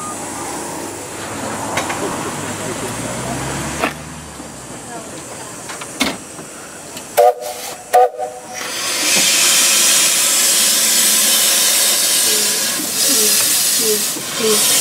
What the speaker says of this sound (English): Northern Rock is backing on now to the stock